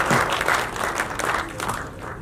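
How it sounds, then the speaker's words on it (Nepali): A crowd claps loudly and steadily for the song's lyricist and composer at a launch event for a new Nepali music video, a dense wash of applause filling the whole moment with no break. "एकचोटि जोरदार ताली उहाँहरू हुनुभयो भने उहाँहरूका लागि"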